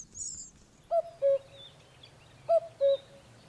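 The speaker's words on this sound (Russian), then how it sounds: "Кукушки." Common cuckoo calling its two-note 'cu-coo' twice at a steady rhythm, clear and moderately near, with faint background birdsong and no talking.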